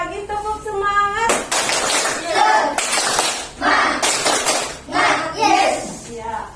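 A primary school class repeats a rhythmic Indonesian spirit-clap chant, children's voices and sharp group claps alternating in short bursts after a teacher's sung prompt, loud and close.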